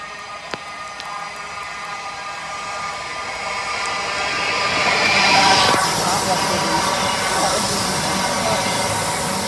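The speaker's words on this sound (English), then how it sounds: "At the West Midlands class 172." A West Midlands class 172 diesel train at Bournville station gives a steady broadband rumble and hiss that swells toward the middle, with a brief sharp click early on and voices murmuring faintly alongside.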